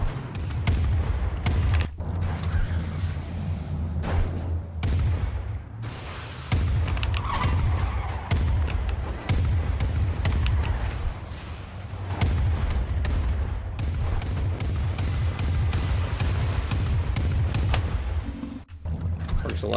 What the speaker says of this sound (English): You know, a truck cannon out of nowhere.